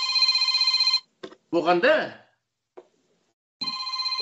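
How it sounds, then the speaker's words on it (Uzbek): A telephone rings with an incoming call, a steady electronic trill at the start and again at the end, with someone briefly speaking in between. "telefon kelib qoldi, apaqili."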